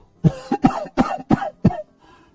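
An old man coughs on a cot in a Hindi cartoon story, five or six rough, close coughs in a quick uneven burst, then a faint pause.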